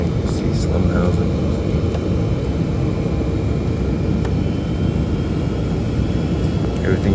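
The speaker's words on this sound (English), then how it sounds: "So I guess I'll just bring us into a landing here since we're approaching the airport." A Boeing 757 jet descending toward La Aurora airport in Guatemala, heard from the cabin as a loud, steady engine and air roar with no breaks, with muffled voices faintly underneath.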